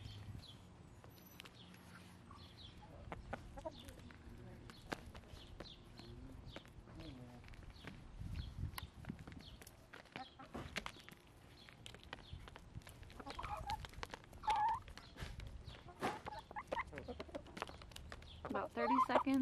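Soft clucking from a group of chickens eating ground beef, close and quiet, with scattered pecking taps and a few voices talking in the background.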